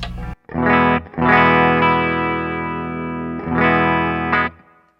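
Clean-channel electric guitar, a Charvel Guthrie Govan signature model on the bridge pickup, plays a loud, close phrase of long ringing chords after a brief opening stab, with short gaps between notes and a decaying tail.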